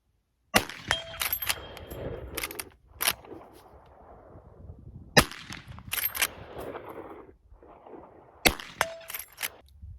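A suppressed 45-70 lever-action rifle fires outdoors: several sharp, loud reports spaced a second or two apart, each followed by a short metallic clack of the lever cycling and a faint fading echo.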